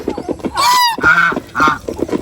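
A goose honks loudly several times in a row, close by, with other birds and fowl chattering faintly underneath.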